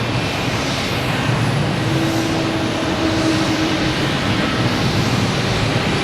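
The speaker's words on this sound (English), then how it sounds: "That Delta just landed" A Delta jet airliner landing at Boston Logan Airport gives a steady, loud, broadband engine roar with a faint tonal whine, holding evenly from start to finish with no talk.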